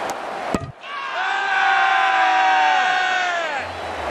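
A cricket crowd at a Sydney Thunder vs Brisbane Heat match roars in sustained excited cheering after a sharp knock, swelling loud and steady for a few seconds before easing off.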